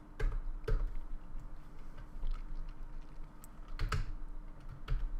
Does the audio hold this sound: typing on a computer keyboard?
yes